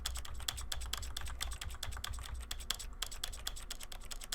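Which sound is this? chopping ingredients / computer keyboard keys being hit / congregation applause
computer keyboard keys being hit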